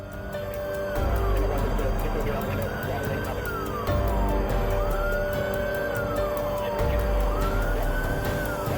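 A police car siren wails in repeated rising and falling sweeps during a dashcam chase, loud and steady over engine and road rumble, with talk layered over it.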